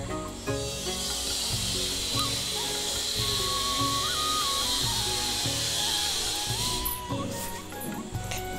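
Cabbage fries hard in a pan with salt, turmeric and chilli powder, a loud, steady hiss and sizzle running unbroken throughout, with faint clinks and a thin whistling tone drifting above.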